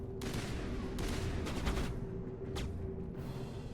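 Mass Effect gunfire rings out in several sharp bursts of rapid shots spread across a few seconds, moderately loud over a low steady game hum.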